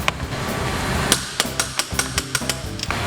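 A wrench on the top shock mount nut of a Suzuki V-Strom motorcycle while a Progressive 465 Series monoshock is installed, giving a series of short sharp metallic clicks in an irregular rhythm, close and moderately loud.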